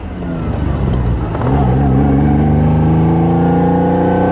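A blue 1973 Ferrari Dino 246 GTS pulls away in first gear, its engine note climbing steadily as it accelerates, loud and close, with no talk over it.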